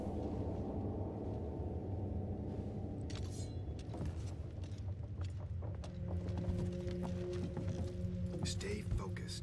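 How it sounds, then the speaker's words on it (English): Footsteps in the stealth video game Thief on PS4: a run of soft, rhythmic steps mixed into a dense, droning game soundscape, with occasional voices. "I hear footsteps everywhere, but I can't tell how far away they are."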